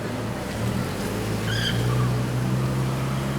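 A car passes by on a street in Charleston, South Carolina, its engine hum rising into a steady close drone with a faint high squeal, loud against the street background.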